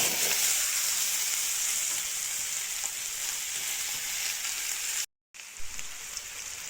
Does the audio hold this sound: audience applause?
no